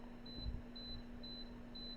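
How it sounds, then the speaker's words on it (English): A faint electronic beep repeats at an even pace, about two per second, in a quiet room over a low steady electrical hum, with one soft thump partway through. "I'm sorry for the beeping in the background"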